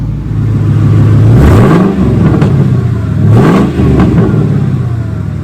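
A New Edge Ford Mustang engine with newly installed coil-on-plug ignition idles with a steady rumble, then is revved twice, each rev sweeping up in pitch and dropping back to idle.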